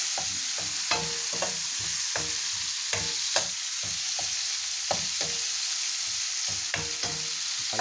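Tomatoes are stirred in a hot frying pan under a steady sizzle, with a utensil scraping and clacking against the pan in irregular strokes, close and moderately loud.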